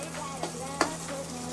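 Brinjal chutney frying in a pan, soft steady sizzle with a few quick scrapes of a spoon stirring, quiet and close with no voices.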